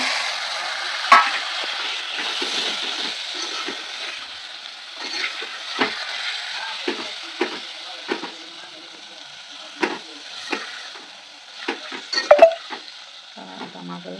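Tomatoes frying with chili powder in a pan, a steady sizzle broken by scraping stirs and a few sharp utensil clacks, close by with no talk.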